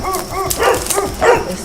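Three thin, neglected dogs, one emaciated, give short barks and yips in quick bursts, close and fairly loud, with no talk over them.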